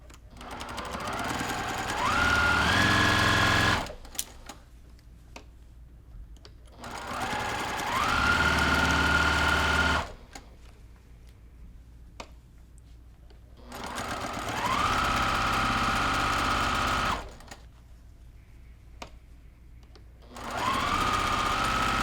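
A sewing machine stitches half square triangle quilt blocks in four long, steady runs, each whirring up to speed and holding a loud mechanical hum, separated by quiet pauses with small handling clicks.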